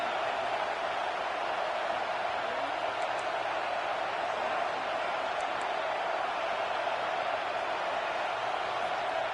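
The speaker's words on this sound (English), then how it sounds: "Man, this crowd really affecting the football game." Home crowd in the CFB 26 college football game, a steady, dense roar of cheering and noise filling the whole stretch, loud and unbroken, with no distinct talk.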